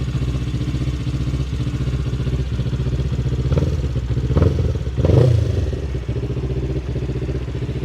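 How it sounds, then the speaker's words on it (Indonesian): A Yamaha MT25 motorcycle engine, bored up toward 340cc, runs steadily at idle, loud and close, with a couple of brief revs swelling midway before settling back to a constant rumble. "mari kita dengerin aja guys suara dari MT25 ini"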